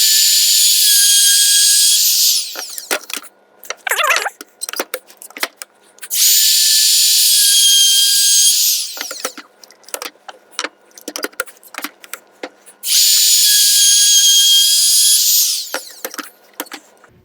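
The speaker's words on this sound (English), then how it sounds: "now that I've routed all my end grain, then I'm going to rotate my board and route all the edge grain." A router cutting the end grain of a wooden kitchen board gives three loud, sustained high whining passes, each a few seconds long, separated by clattering handling and tool noises.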